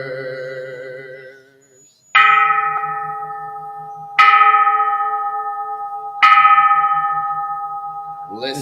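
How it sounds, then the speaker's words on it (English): A meditation bell is struck three times at even intervals. Each strike rings out clear and bright, then decays slowly into a long, sustained hum, and a calm voice is heard briefly before the first strike. "Listening to the bell, I feel the afflictions in me beginning to dissolve."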